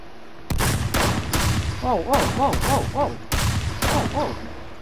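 Video game gunfire rings out in several sharp, loud bursts of rapid shots, separated by short pauses, with a voice speaking between and under the shooting.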